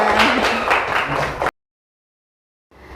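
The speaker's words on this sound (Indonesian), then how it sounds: "Tepuk tangan, tepuk tangan." Children clapping hands together in a classroom, a brisk burst of rhythmic claps over a noisy room for about a second and a half before a sudden cut to silence.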